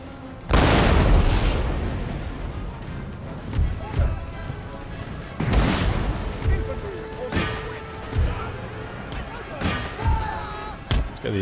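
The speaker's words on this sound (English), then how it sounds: "I hope my cannons can do the job" Cannon fire booms out in an Empire: Total War battle as a Great Britain campaign plays on, with a few heavy blasts and scattered thuds of distant gunfire.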